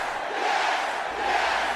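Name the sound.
arena crowd cheering in WWE 2K25 video game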